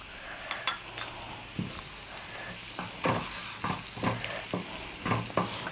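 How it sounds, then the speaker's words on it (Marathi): Carrot pickle ingredients lightly sautéed in a pan, with a steady soft sizzle under repeated scraping and stirring strokes of a spoon against the pan, close and clear, no voices. "आपल्याला जास्त परतायचं नाही आहे, आपल्याला थोडंसंच परतायचं आहे।"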